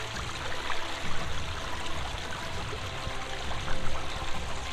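A shallow stream flows over stones, giving a continuous close babbling wash with gentle swells in level and no voices.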